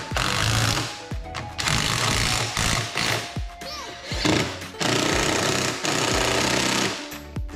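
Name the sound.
tightening crash bar screws on Yamaha Xmax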